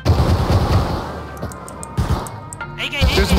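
Gunfire in Rust, the survival video game, with loud bursts of rifle fire repeating through the clip over a busy battle mix while players talk.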